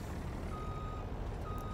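Truck in Farming Simulator 19 reversing, a faint steady engine rumble with a thin repeating reversing beep in the background.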